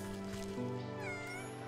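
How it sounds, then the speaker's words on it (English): A cat meows in the video game Wytchwood, a drawn-out wavering cry that carries over steady game music and ambience, loud and close with no talk. "That's a very good cat noise that they've got."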